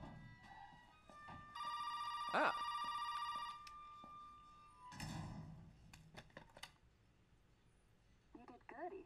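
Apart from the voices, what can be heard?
telephone ringing in Resident Evil 7 video game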